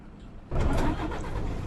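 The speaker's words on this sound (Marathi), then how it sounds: "चला बसूया, चालू करूया ट्रक." A truck engine starts up in a truck simulator game, kicking in abruptly from near quiet into a loud, steady idle rumble.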